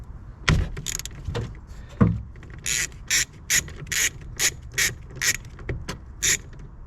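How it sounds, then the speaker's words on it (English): A deep-well 13mm socket on a ratchet wrench backs a bolt out while working on a Silverado/Sierra horn fault, giving about a dozen sharp, close metallic ratcheting bursts in an even rhythm after a couple of initial clunks. "We're going to go ahead and use our socket and we'll get that out."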